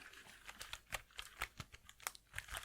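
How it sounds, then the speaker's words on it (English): Quiet, irregular clicking of keys being typed on a computer keyboard, a quick patter of soft taps close by. "You've had enough of a typing demonstration."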